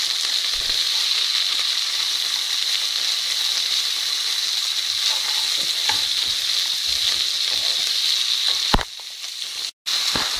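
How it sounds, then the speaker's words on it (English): Capsicums frying in a pan for chilli paneer, a steady close sizzle with occasional stirring scrapes and a brief clatter near the end. "Okay, so capsicums have been cooking for a few minutes"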